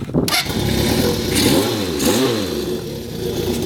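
A Honda CB750 K0 sandcast motorcycle with a Kerker exhaust revs hard and close, its engine note climbing and falling in two sweeping throttle blips over a loud, raspy idle.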